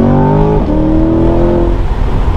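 A stock 2022 Chevrolet Corvette C8 engine revs loudly and close, its pitch climbing, dipping briefly, then rising again in a sustained throaty roar.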